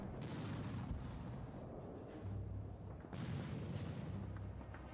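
A tank being hit in the Arms Trade Tycoon World War One battle, heard as two faint, distant booms with muffled rumbling in between, low and somewhat dull.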